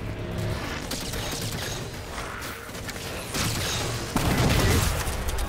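Gunfire in the shooter game Halo 4: bursts of shots and mechanical clatter come in waves, growing louder and denser toward the end, with no talking.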